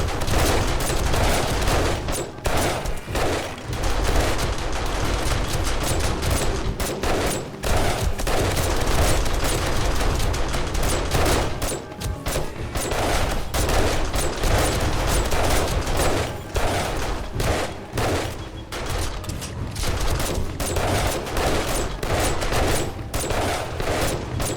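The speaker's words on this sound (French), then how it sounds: "La tourelle MP5 a pris le relais." Sustained rapid automatic gunfire from an MP5 turret defending a base in the video game 7 Days to Die, a dense, loud, continuous fusillade with overlapping bursts running throughout.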